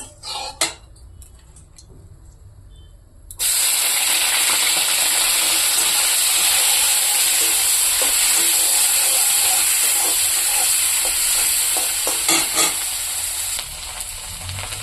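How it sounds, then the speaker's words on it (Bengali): Dried fish frying in oil in a wok, starting with a few faint clinks before a loud, steady sizzle erupts about a third of the way in and hisses on close and unbroken to the end. "এখানে কড়াই বসিয়ে দিয়েছি, শুটকিটা ভেজে নেব"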